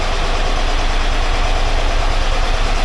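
A 1982 air-cooled VW Vanagon Westfalia engine runs in neutral, a loud, steady, close idle with a dense low rumble and a fast even chug throughout, no voices.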